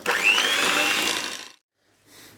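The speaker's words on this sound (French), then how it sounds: "Et là on fouette pendant environ 30 à 40 secondes." An electric mixer whisks liquid cream for a strawberry yogurt cheesecake, a loud close whirring drone for about a second and a half before it cuts off, then a brief faint restart.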